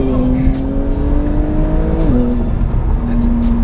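A 2020 Porsche 911 Carrera S (992) with a 3-liter engine and manual gearbox in Sport Plus accelerates hard, a loud steady engine tone climbing in pitch, dipping briefly at a shift, then pulling on from inside the cabin.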